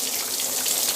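Steady hiss of water spraying from a hose through tubing wrapped around a homemade chicken plucker, a continuous even rush close by with no break.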